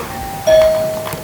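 A single electronic doorbell chime rings out clearly, a short bright tone that fades over about half a second against a quiet background.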